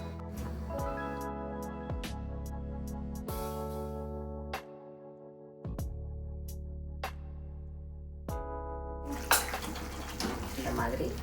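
Water poured into tomato masala in a cooking pan: a steady splashing pour runs through most of the clip alongside sustained background music, with a brief louder splash near the end.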